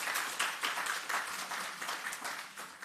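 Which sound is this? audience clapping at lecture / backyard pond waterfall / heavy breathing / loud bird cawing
audience clapping at lecture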